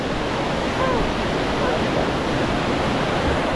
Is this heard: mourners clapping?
no